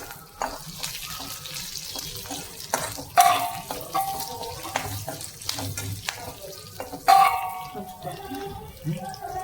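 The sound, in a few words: curry leaves, garlic, cumin and dal frying in a pan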